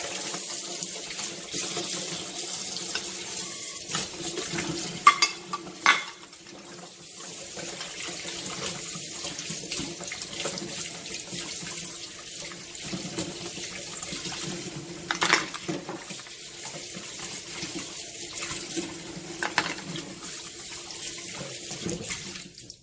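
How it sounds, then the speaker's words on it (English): Snails being rinsed under a running kitchen tap before cooking, a steady hiss of water splashing into a sink with small clinks and shifting shells throughout, no talk. "I'm going to give it one final rinse. Make sure that all the gunk is out of there"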